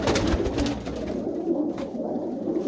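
Pigeons cooing inside a loft of hens and young birds, soft overlapping low coos against a busy, rumbling background with occasional rustles and knocks.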